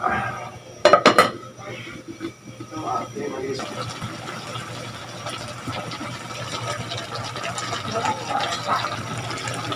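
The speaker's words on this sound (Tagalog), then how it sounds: "ito Kulong-kulo na" Sardines and water spinach simmer in a pan. A few metal clinks and a utensil scraping come first, then a steady bubbling hiss settles in, with a voice talking softly over the cooking.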